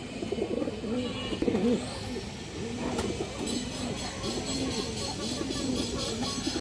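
Khaki pigeons kept in a loft coo in soft, repeated phrases at a steady rhythm, close and moderately loud over a continuous background hiss.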